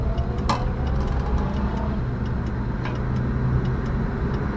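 A 1962 Plymouth Belvedere engine idles steadily once warmed up, a continuous low rumble close by with a faint tick or two on top and no talking.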